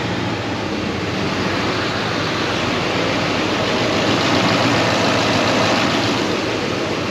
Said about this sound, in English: Bring idle up a little bit more.